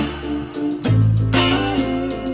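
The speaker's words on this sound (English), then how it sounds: "we're going to start the song with the verse chords." Electric guitar strums the verse chords of a song, a few ringing chords with a deeper chord entering partway through, close and full with no talking.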